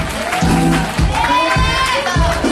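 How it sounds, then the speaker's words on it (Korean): At a youth dance festival awards ceremony, a loud, close crowd cheers and shouts in repeated bursts, with youthful voices rising and falling amid scattered applause. "큰 박수 부탁드립니다."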